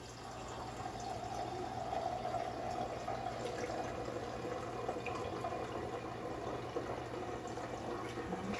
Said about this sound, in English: I can pour my last gallon here without killing my arms